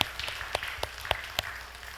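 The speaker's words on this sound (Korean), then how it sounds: "박수 한번 크게 격려하겠습니다." A church congregation gives scattered applause, a handful of sharp separate claps spaced irregularly across a quiet room, faint and sparse rather than a full ovation.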